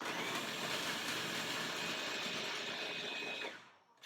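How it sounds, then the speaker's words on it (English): A kitchen blender whirring at high speed as it chops cauliflower into rice, a loud continuous motor drone that holds steady alone, then cuts off abruptly near the end. "Blender that."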